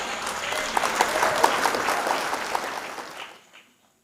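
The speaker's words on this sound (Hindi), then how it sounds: "बजाइए ताली अगर दिल चाहता है आपका।" Sustained applause from an audience at a mushaira poetry gathering and felicitation ceremony rises into a steady wash of clapping, then fades out and drops to near silence.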